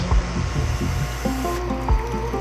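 A La Marzocco Linea Mini espresso machine's steam wand hisses steadily up close, with low tonal hums and a few soft knocks underneath and no talking.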